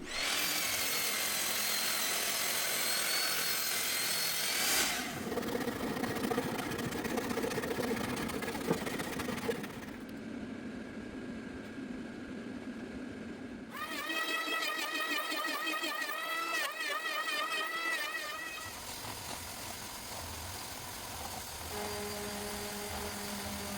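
A lathe spins a large firewood cylinder wrapped in sandpaper, sanding wood for a modern TV cabinet build; a steady whirring motor drone runs throughout, with a higher whining, rubbing stretch in the middle.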